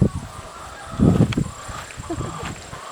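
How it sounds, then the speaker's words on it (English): A male turkey gobbling and honking in a few loud bursts close by on a farm, with quieter calls following against a steady outdoor hum. "And here's one of our turkeys"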